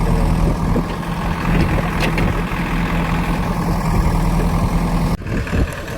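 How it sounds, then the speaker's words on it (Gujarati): A tractor engine stuck in wet soil on a farm rumbles loudly and continuously at a steady idle close by, with a brief dip and a knock near the end. "ટ્રેક્ટર થઈ ગયું ચાલુ"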